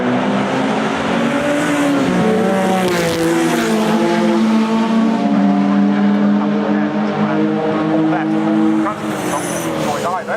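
World Sportscar Masters racing cars at Oulton Park keep up a loud, continuous engine roar with rising and falling revs as they run the track, while a commentator talks over them.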